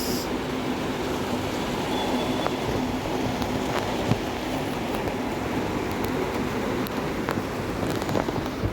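Steady rain falls continuously, a dense even hiss with scattered drop taps on surfaces, moderately loud and with no voices.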